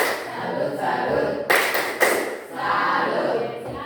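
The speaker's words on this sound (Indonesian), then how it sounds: "kita tepuk salut dulu untuk kelompok 1" Classroom group clapping the rhythmic 'tepuk salut' cheer for a student group, with a couple of sharp clap bursts standing out over a noisy room and chanting voices.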